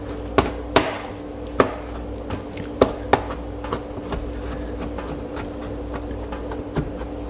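Knife chopping food on a cutting board during meal prep, a series of sharp, irregular close taps spaced through the clip over a steady background hum, with no talk.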